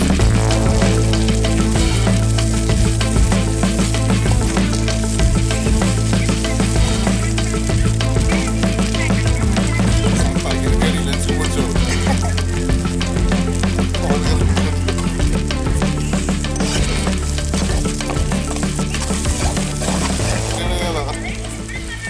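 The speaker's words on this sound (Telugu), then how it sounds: "ఇప్పుడు నూనె పోసాము, ఇప్పుడు కరివేపాకు వేస్తున్నా. ఇక్కడ పచ్చిమిర్చి, ఉల్లిగడ్డ," Curry leaves, green chili and onion fry in hot oil, a loud, continuous close sizzle with stirring and scraping throughout, easing slightly toward the end.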